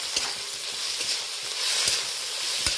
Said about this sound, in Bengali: পেঁয়াজ টমেটো আদা রসুন ভালো করে নাড়াচাড়া করে নরম করে ভালো করে কষিয়ে নেব